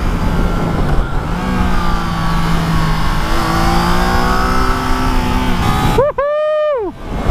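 A 2021 Triumph Trident 660 motorcycle accelerates while being ridden, its engine note climbing steadily under wind rush close by, before a loud voice whoops near the end.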